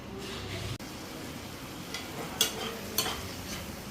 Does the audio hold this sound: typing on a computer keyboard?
no